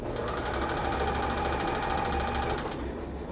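A serger sewing machine stitches a fabric mask seam in a fast, even mechanical rattle, loud and close, running steadily for about three seconds before stopping.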